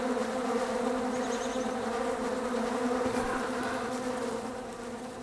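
Flies in the Don't Starve video game buzz loudly and continuously around manure, a dense droning hum that fades slightly at the end.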